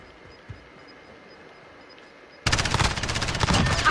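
In a Modern Warfare gunfight on the Rust map, a quiet lull gives way to a sudden loud burst of rapid automatic gunfire that keeps hammering to the end.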